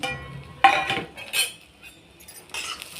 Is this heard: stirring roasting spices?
yes